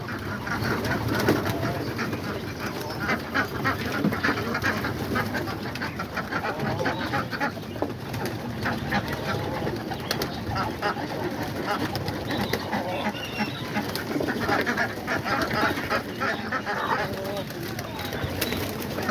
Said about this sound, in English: And the ducks and the chickens are out here just waiting to see what the pigeons drop